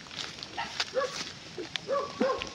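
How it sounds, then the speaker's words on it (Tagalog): Dog yelping and barking a few times at night, short whiny barks at moderate distance over a faint background hum. "May aso."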